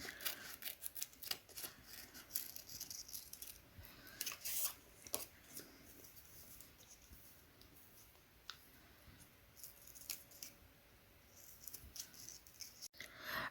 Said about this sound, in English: I cut out my J using this paper template